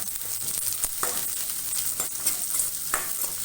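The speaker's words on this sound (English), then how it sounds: "Let us fry the onion well." A small onion fries in a pan with steady sizzling, broken by a few light scrapes and taps of a stirring utensil; no one talks.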